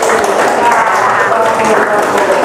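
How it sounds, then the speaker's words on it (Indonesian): Classroom applause for four students, a steady patter of many hands clapping together from start to finish, with voices mixed in. "Beri tepuk tangan untuk 4 orang tersebut"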